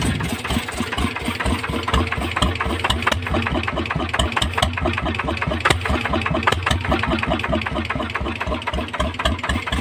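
A motor engine runs steadily at close range, a loud, continuous, evenly pulsing idle with a rough mechanical texture and no voices over it.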